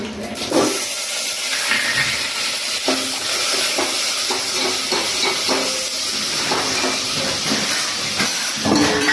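Onions, green chillies and garlic fry loudly in a pan, a bright hissing sizzle with repeated scraping stirs and spatula knocks throughout, no one talking.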